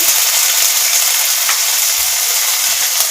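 Onions fry in hot oil with ginger garlic paste, chopped chilies and turmeric powder as they are stirred, a loud, continuous close-up sizzle with a few soft scraping knocks from the stirring.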